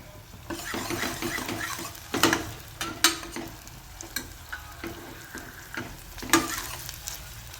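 Crushed garlic and ginger frying in a pan for a Maharashtrian drumstick fry, with a continuous sizzle and sharp metallic scrapes and clinks of a spatula stirring, close up and with no talk.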